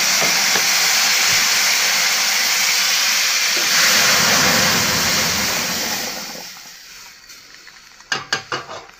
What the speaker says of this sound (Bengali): চলো ডালটাকে সম্বার দিয়ে নিই।